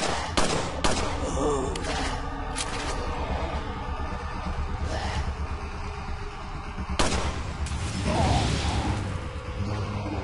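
Gunfire in Resident Evil 4 sounds as a run of sharp, loud shots with gaps between them, against a busy game background with clattering mechanical noise.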